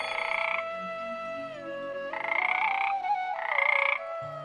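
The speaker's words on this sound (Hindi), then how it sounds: "कालू कौवा जादुई छड़ी से तोते को मेंढक बना देता है।" A cartoon frog, a parrot magically turned into one, croaks in three bursts of bright, buzzy, rhythmic croaking separated by short pauses, with no talk over it.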